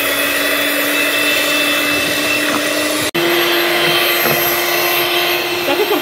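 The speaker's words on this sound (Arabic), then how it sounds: "نطلعوا البيض والسنيده، نطلعوه مزيان، عاد ندوزو الزيت تدريجيا" An electric mixer beating eggs and sugar as oil is added, a loud steady motor whine that runs throughout and briefly cuts out midway before resuming.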